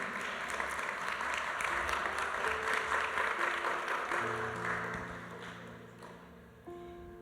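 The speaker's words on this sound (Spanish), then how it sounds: "Denle un aplauso al Señor." A church congregation applauds steadily with dense, sustained clapping through most of the stretch, fading toward the end as soft instrumental tones come in underneath.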